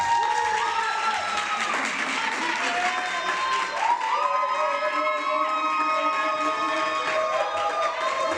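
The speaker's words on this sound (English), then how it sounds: "Please put your hands together." An audience cheers and applauds for an introduced guest, a continuous crowd roar of clapping mixed with shouts, whoops and lively voices throughout.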